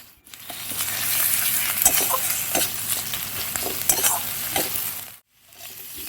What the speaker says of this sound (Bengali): 1 চামচ হচ্ছে রসুন বাটা আর 1 চামচ হচ্ছে আদা বাটা, দিয়ে আবারও একটু কষে নেব